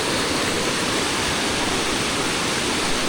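A small rivulet swollen by heavy monsoon rain rushes past in a steady, loud, unbroken roar of flowing water that holds constant throughout.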